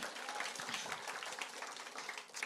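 A church congregation claps during a service, making a steady, dense patter of hands that is faint and somewhat distant throughout.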